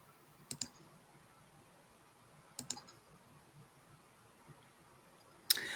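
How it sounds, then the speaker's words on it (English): Mouse buttons clicked during a live stream, heard as a few faint clusters of quick double clicks spaced seconds apart over a quiet room background, with a sharper click at the end. "trying to do the most on the live stream and clicking buttons"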